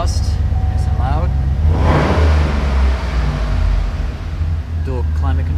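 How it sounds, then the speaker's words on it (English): A Chevrolet Silverado pickup's engine with a loud custom exhaust rumbles and revs close by, a deep steady drone swelling midway through. "Fires right up. Nice custom exhaust, nice and loud."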